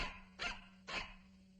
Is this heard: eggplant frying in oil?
no